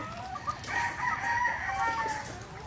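Super brown-red pullets, young chickens, clucking softly and continuously at a moderate distance, with no talk over them.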